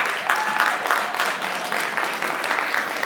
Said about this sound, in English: Can we give our students a round of applause,